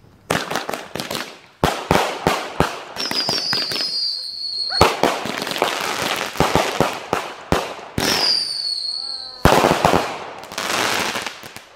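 Back-yard fireworks: rapid crackling bursts of firecrackers in dense volleys, punctuated by a couple of whistling rockets, sharp and close with brief gaps between salvos.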